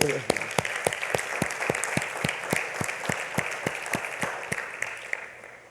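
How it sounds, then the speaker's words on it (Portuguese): A church congregation claps together in a sharp, regular rhythm, each clap ringing out evenly and fairly close for several seconds. "Vamos dar um salve de palmas para nós"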